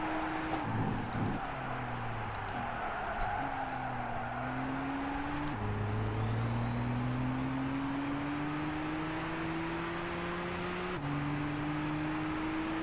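Racing car engine in Gran Turismo 6, with a turbo fitted, holds a steady loud drone whose pitch climbs through gear changes and drops at shifts, with brief tire squeal near a corner and no talk.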